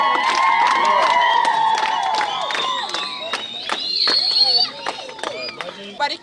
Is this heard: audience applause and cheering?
yes